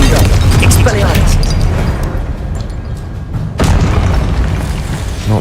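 A Confringo blasting spell explodes in the Hogwarts Legacy video game: loud, sustained booming blasts fill the scene, with a brief dip before another heavy burst.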